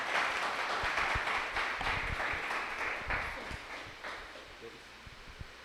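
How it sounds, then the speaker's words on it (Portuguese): A church congregation claps together in a soft, spread-out round of applause that gradually thins out, heard from some distance. "Uma salva de palmas, né?"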